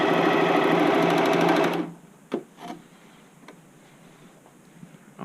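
A sewing machine zigzag stitching along a fabric edge of an upcycled button-up shirt, a fast close whirring run that stops, followed by faint clicks and handling noises.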